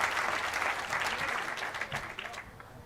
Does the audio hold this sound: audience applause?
yes